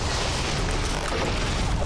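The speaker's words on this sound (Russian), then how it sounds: "Да, я могу взрывать их выстрелы в полете." Projectiles burst in midair in Doom 3 on Mars, a dense, loud, continuous roaring blast with no clear pauses, filling the whole moment.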